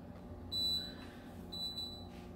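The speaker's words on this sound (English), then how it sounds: "it's beeping to tell me to close the lid" An electric pressure cooker beeps to signal its lid should be closed: two bright electronic beep bursts about a second apart, close and clear over a low background hum.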